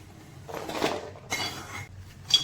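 Walnuts stirred briefly in a pan while making healthy energy laddoos, giving light clinks and scraping of a utensil against metal in short bursts, close and fairly quiet.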